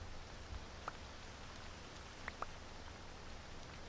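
Steady rain hisses in the Minecraft FTB Unstable modpack, a faint, even patter with a few slightly louder drops standing out.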